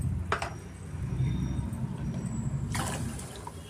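Water is poured into simmering lentil stock for obbattu saaru. Two short splashing pours sound close by over a low, steady background bubbling.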